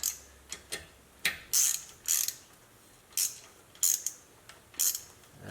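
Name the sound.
torque wrench tightening Jeep steering bolts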